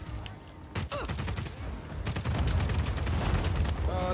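Rapid bursts of gunfire from Just Cause 4 crackle in a dense, loud fusillade that keeps going with hardly a break, with brief voices mixed into the din.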